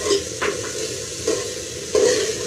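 Green chili paste with coriander and a few mint leaves frying in oil, a steady sizzle with a few sharp stirring scrapes spaced across the moment, close and fairly loud with no talk.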